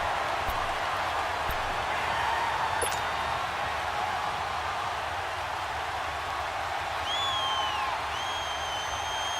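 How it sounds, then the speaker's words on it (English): Steady roar of a stadium crowd in Madden NFL 19 during a two-point conversion, a dense continuous murmur with faint whistling tones rising near the end. "Listen to this crowd now."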